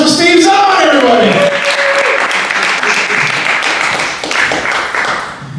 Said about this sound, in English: So give a round of applause for Steve Zahn, everybody.